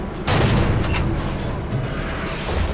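A tank's gun fires in World of Tanks from a Pz.Sfl. IVc tank destroyer: one loud, close, booming blast that rolls into a long rumbling decay.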